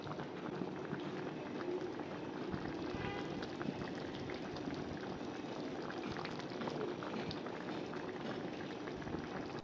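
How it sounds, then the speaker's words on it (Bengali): Mixed vegetable curry bubbles steadily in a pot, a dense, even simmering hiss with soft popping that continues without a break, close and moderately loud, with no talking. "এই তো ফুটে উঠছে"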